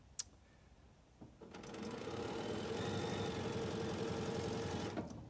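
A sewing machine stitches the seams of a wedding rings quilt in a steady fast whir, starting after a few clicks, running close and continuous for several seconds, then stopping.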